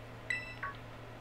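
A Rotom Phone rings in the video game Pokémon Violet with two quick, faint electronic beeps, like a phone chime, over a quiet low hum.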